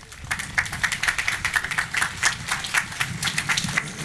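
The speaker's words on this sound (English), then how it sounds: "let's give him a nice round of applause" An audience gives a round of applause for Bill Foster, of the U.S. House of Representatives, at an Abraham Lincoln Memorial Day event: dense, even clapping that holds steady for several seconds.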